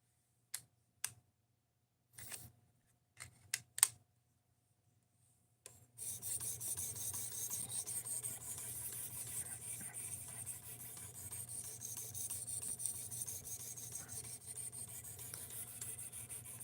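A blade is drawn across a sharpening stone in a continuous rasping rub that runs steadily and close, after a few separate scraping strokes with pauses between them.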